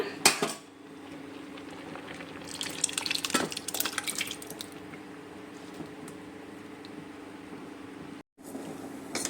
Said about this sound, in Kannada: ಇದಕ್ಕೆ ನಾವು ಬೇಳೆನ ಮಿಕ್ಸ್ ಮಾಡ್ಕೊಳ್ಳೋಣ